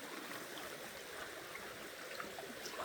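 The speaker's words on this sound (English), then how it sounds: "It's like a little waterfall in there." A small waterfall spills into a rocky stream in Northern California, giving a soft, continuous rushing and trickling wash. The sound is fairly distant, even and faint, with no voices.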